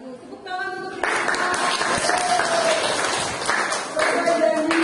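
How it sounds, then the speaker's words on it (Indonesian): A biology class applauds together, with sustained clapping from many hands that swells after a moment and holds steady, partly mixed with voices and some tonal sounds in the room. "Tepuk tangan untuk kita."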